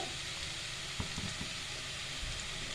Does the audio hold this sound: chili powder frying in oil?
yes